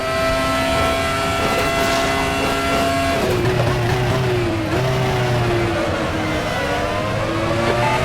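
Screaming FR X-17 open-wheel race car engine at Chang Buriram in RaceRoom Racing Experience, a loud steady high-revving whine that drops pitch through gear changes, continuous and close.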